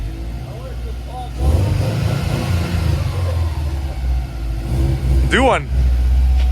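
Subaru car with manual clutch launching, engine revving up in a short rising burst after a pause, close by, with people talking over and around it.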